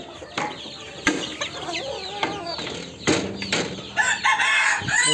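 European Silkie chickens and young native chicks cluck and chirp together at close range, with several overlapping calls, a few sharper squawks and a brief flutter toward the end.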